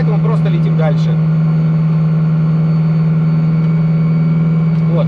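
A motor glider's piston engine warms up in flight, a steady loud low drone with a constant hum running throughout, while someone talks over it at the start and end.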